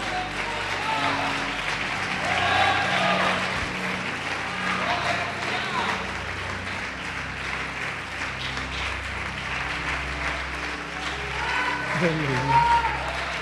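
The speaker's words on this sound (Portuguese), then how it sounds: "Quem crê pode aplaudir o Senhor Jesus e glorificar." A church congregation applauds during a sermon, steady broadband clapping sustained throughout at moderate level, with voices and some musical tones mixed underneath.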